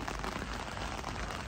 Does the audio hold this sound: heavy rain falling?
yes